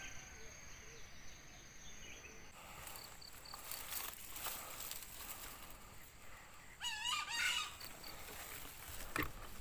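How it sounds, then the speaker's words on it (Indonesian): Green junglefowl calling in a morning forest, a faint distant crow rising over a steady hiss of insects and birds, with one clearer burst of calling near the end. "Itu ada suara ayam hutan kawan"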